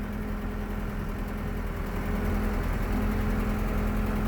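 A backhoe engine drags a rafter carriage down a road, producing a steady, loud, low diesel rumble with an even droning hum throughout.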